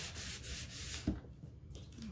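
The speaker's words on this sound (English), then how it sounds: "I did another strip and then I'm just wiping the excess off" A cloth wipes excess finish off a wooden farmhouse riser, giving soft steady rubbing strokes, quiet and close, with a small knock partway through.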